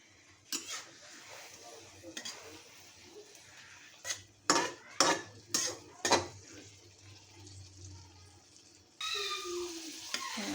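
Egg with pumpkin flowers frying in a pan: a soft, steady sizzle under a series of sharp clinks and scrapes of a utensil pressing against the pan, with quiet speech and a louder burst of sizzling near the end.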